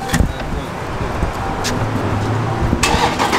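A Chrysler 300 SRT with a catless exhaust turns over and fires up, a steady loud rumble at close range with short sharp bursts on top, no talking.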